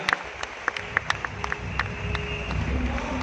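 An audience at a Tamil stage debate event in Tirunelveli applauds, starting with sharp, separate claps that quickly build into a thick, steady roar of clapping.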